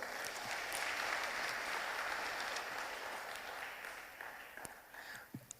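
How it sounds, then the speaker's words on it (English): An audience gives a big round of applause for a professor at an All Saints substance use prevention week event, a dense clapping that swells early, then tapers into a few scattered final claps. "I think a big clap for Professor."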